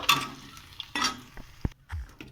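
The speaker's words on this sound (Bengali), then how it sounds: "কড়াইতে রসুন দিয়ে দিলাম, কাঁচা লঙ্কা দিয়ে দিলাম।" Garlic and green chillies hit hot oil in a wok with a brief hiss and sizzle, then a spoon clinks and scrapes against the pan in short bursts.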